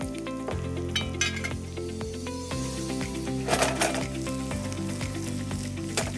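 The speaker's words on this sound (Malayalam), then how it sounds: "നമ്മൾ ഈ ഫ്രൈ ചെയ്ത ചിക്കൻ ഇതിലേക്ക് ഇട്ടു." Fried chicken pieces go into a pan of sautéed onions, raising a loud continuous sizzle, with stirring scrapes and light metallic clinks of utensils against the pan.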